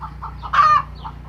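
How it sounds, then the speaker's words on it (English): Chickens cluck and a rooster gives a short call in a barnyard with turkeys and ducks nearby, a few brief close clucks with one louder burst in the middle over a steady low hum. "He's got chickens, got some turkeys over here."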